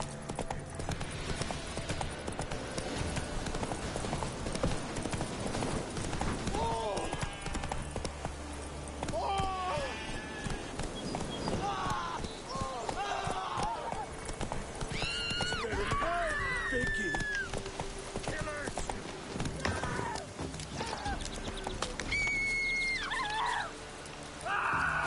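In The Witcher 3, Geralt's horse Roach trots with steady clip-clopping hoofbeats over a long stretch, with soft rain in the background and occasional high whinny-like calls.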